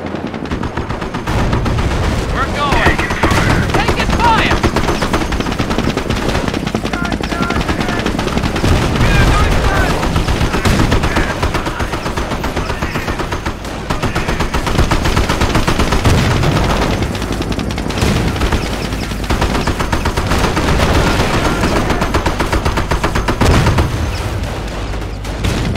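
Gunfire in the World War II strategy game Company of Heroes, Normandy invasion at Montebourg: sustained rattling machine-gun bursts and rifle shots with occasional booms, loud and continuous, with voices calling out over the battle.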